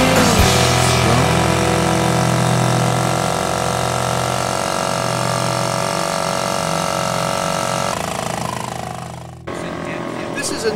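A 1929 Caille tractor lower unit racer outboard boat engine drones steadily and loudly, then drops off near the end.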